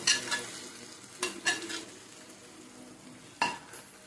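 Chicken stirred and fried in a pan with oil for chicken chengisha, a low sizzle under a few scraping spoon strokes against the pan, close and without talk.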